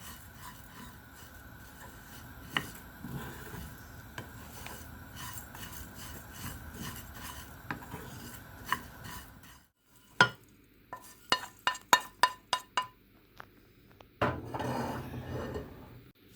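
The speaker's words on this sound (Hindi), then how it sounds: "खुशबू आने तक हम इसे ड्राई रोस्ट करेंगे।" Spices for pakora masala dry roasting in a pan, with a steady scraping, rasping stir of a spatula across the metal for several seconds, then a pause and a run of sharp, distinct clinks and scrapes, close and clear with no talk.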